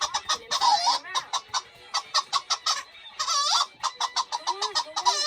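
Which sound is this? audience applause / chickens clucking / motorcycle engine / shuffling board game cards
chickens clucking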